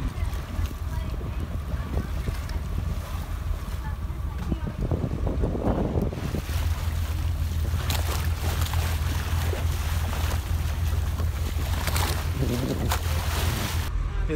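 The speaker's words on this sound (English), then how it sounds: "Got diesel. We're rolling." A low, steady diesel boat engine drone hums throughout while cruising, beneath wind and water noise, with a voice talking over it partway through.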